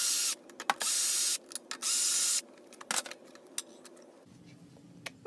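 Bolts being removed from the carburetor cover of a Craftsman Platinum 7.25 lawn mower with a Briggs & Stratton 190 engine: several sustained whirring bursts of a powered driver, close and loud, followed by small clicks and rattles of loosened hardware.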